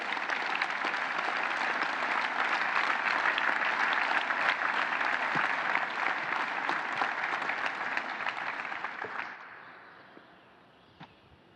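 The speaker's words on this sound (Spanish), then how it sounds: "Yo pido un aplauso para los fundadores de esta gran institución." Sustained, dense applause fills a large assembly hall honoring the founders at an institutional anniversary gathering, holding steady for about nine seconds before fading to scattered claps.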